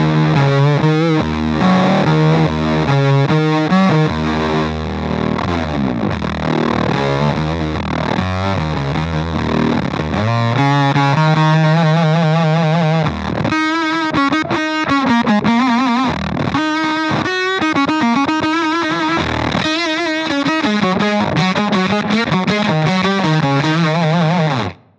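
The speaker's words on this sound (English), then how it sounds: "this is just going to give me like a big old school octave sound" Electric guitar through a ring modulator with pitch tracking, mixed at 35% for a big old-school lo-fi octave tone, plays distorted, buzzy riffs and sustained notes continuously and loudly with no talking.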